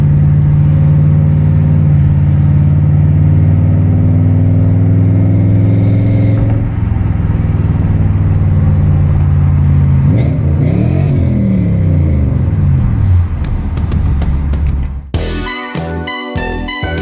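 A 1992 Toyota Soarer idles close by, then revs and pulls away, its engine note rising and fading into the distance before other noise takes over at the end.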